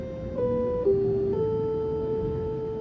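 A short minor diatonic enclosure phrase from video game music, played as a few sustained tones moving stepwise to a held note, alone at moderate level with no talking.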